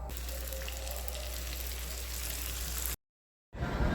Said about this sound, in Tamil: மீதம் இருக்கிறது இதே மாதிரி ஃப்ரை பண்ணி எடுக்கலாம்.